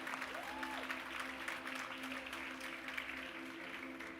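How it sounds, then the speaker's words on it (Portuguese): An audience in a church gives a steady round of applause, moderately distant, with faint voices and a brief cheer mixed into the clapping. "Aplauda ele em nome de Jesus."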